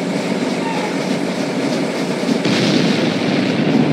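Train in the Roblox game Jailbreak rumbling steadily with a rail clatter, loud and continuous, with a brief shift in tone partway through and no talking.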